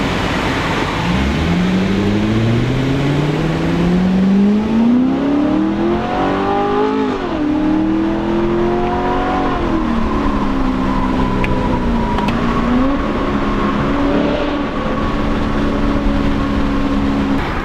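A Chevrolet Corvette being driven, its engine revving loudly and steadily through rising and falling gear pulls, with strong, continuous engine tone close to the car and no talking.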